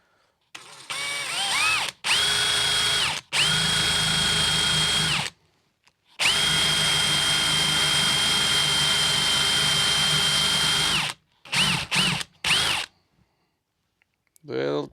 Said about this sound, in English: So I'm going to drill one now.